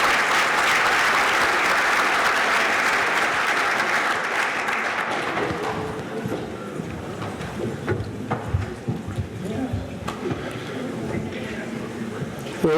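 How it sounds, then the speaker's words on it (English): Loud crowd applause and cheering at a university athletics Hall of Fame ceremony swell at first, then fade into scattered claps and murmuring voices. "Now a big round of applause for our Griffin Hall of Famers"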